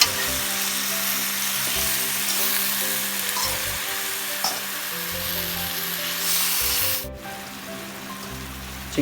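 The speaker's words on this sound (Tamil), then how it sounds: "சிக்கன் ஆட் பண்ணி நல்லா வதக்குங்க." Chicken sautés in hot oil with curry leaves for pepper chicken, a loud, dense sizzle with stirring scrapes and rubbing against the pan, briefly dropping off near the end before resuming.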